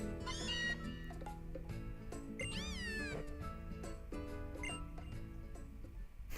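Cat Pokémon cry in Pokémon Sun: a clear rising-and-falling meow-like call sounds over layered festival music and chiming game sound effects, with no talking.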